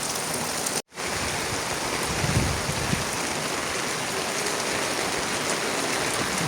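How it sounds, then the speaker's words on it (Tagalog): Heavy typhoon rain and a swelling river make a constant, loud, broadband rush with no voices. The sound cuts out for a split second early on. "Normal to dito pag lumalakas ang ulan. Normal to dito sa amin na yung ilog tumataas."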